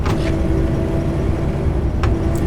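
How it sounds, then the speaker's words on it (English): A steady coach bus engine in the OMSI 2 driving simulator idles with a low droning hum and a constant tonal whine, fairly loud and unchanging throughout. "So as you can hear, this bus sounds very nice too."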